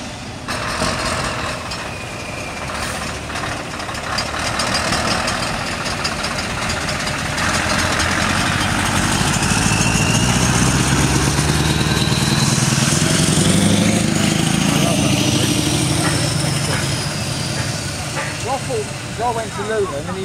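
Fairground vehicles and engines pull onto the site for the opening of the fair, a steady rumble of idling and moving motors, with knocking diesel tones swelling through the middle, while people chat over the din.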